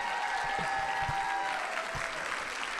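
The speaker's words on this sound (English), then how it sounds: "Let's give them a round of applause." A crowd claps steadily at an election night event, with a few sharp louder claps close by over a broad wash of applause.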